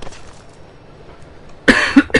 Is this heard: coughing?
yes